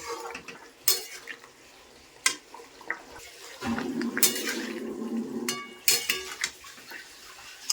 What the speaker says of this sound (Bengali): ঢাকা তুলে নিচ্ছি এখন নামিয়ে দিব